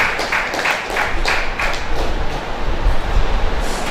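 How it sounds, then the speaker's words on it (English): An audience at an International Day of Persons with Disabilities event applauds for a professor, with a few distinct claps at first giving way to a loud, dense wash of clapping that continues throughout. "please round of applause for Professor"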